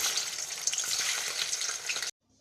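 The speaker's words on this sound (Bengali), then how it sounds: "এবার মাছটা ভেজে নেব" Bhetki fish fries in hot oil in a continuous, loud crackling sizzle that runs for about two seconds and then stops abruptly, with no voices.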